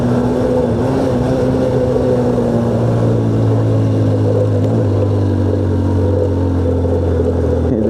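A motorbike engine steadily pulling up a steep hill road in third gear toward Boga Lake in Bandarban, a loud, sustained droning hum that holds a steady pitch with no pauses, close to the listener.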